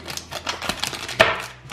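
Scissors snip through a small plastic doll-accessory packet with a quick series of crisp, sharp cuts and rustles, ending in one louder snap, close up and alone.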